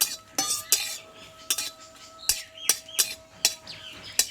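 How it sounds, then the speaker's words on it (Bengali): Dry chillies roast in a dry pan for a mixed vegetable dish, with a spatula scraping and clinking against the metal in short, regular strokes over a faint background, no voices. "এটা আমি শুকনো খোলায় ভেজে নেবো আগে লঙ্কাটা একটু ভেজে নেবো"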